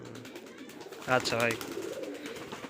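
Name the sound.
giribaj pigeons cooing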